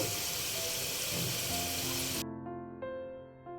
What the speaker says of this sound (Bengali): সম্পূর্ণ মোটামুটি একটি বাদামি রং ধারণ করা পর্যন্ত অপেক্ষা করব এবং ভাজতে থাকব